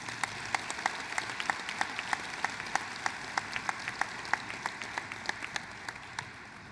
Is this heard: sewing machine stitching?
no